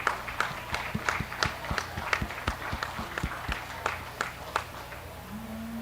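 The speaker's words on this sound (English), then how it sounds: "Let's give a loud round of applause to our senior showman." An audience at a county dairy show clapping for the senior showmen, a sparse, irregular patter of individual claps, fairly close and moderate, over a steady low hum of a large hall.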